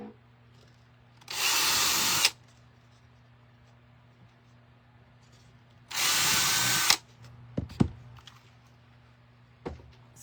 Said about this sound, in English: just drill a couple holes